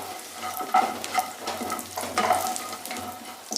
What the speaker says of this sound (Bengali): একটুখানি লাল করে আমি ডালের বড়িগুলোকে ভেজে নিচ্ছি